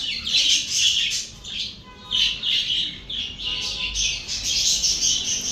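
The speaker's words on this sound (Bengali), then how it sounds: "তো এই যে আমার সব পাখিগুলো" Pet birds chirp and squawk in repeated bursts, bright and fairly close, with short pauses between calls and no talking.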